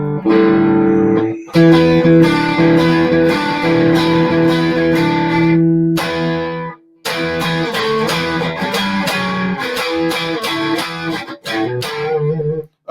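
Heavily distorted electric guitar played alone through an effects unit, with loud sustained chords, pauses and short choppy strummed bursts in a doom metal style.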